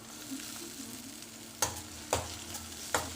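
Coriander leaves sautéing in hot oil for a cabbage and pea sabzi give a low, steady sizzle, broken by three sharp scrapes of a spatula against the pan near the end.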